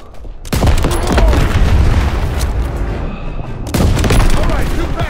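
Loud booming explosions and heavy gunfire fill the World War II battlefield of Call of Duty WWII as ammo boxes are blown up by rifle shots, two dense bursts of blasts with rumbling debris in between.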